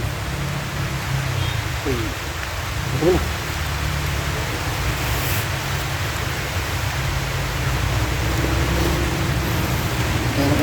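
Heavy rain falls steadily during typhoon Kristin in a rural province, a dense, unbroken outdoor hiss, with faint voices briefly audible beneath it.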